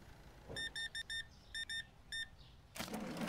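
Short electronic beeps in quick bursts, like a checkout scanner, followed by a louder register-style burst at the end, from the cash register in the video game Supermarket Simulator, with no talking.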